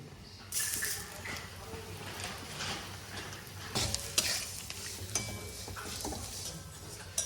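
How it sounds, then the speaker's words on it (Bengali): Flattened rice (chira) tossed into a pan with fried curry leaves, peanuts and dried chillies, giving a steady close sizzle with busy stirring scrapes and clinks throughout. "এবার এই যে চিড়েগুলো আছে, চিড়েগুলো দিয়ে দেবো।"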